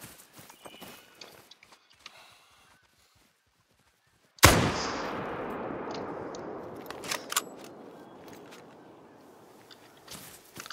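A single loud rifle shot fired at a bison in the video game theHunter: Call of the Wild cracks sharply after near silence, its report decaying for several seconds with faint hoof clatter and movement around it.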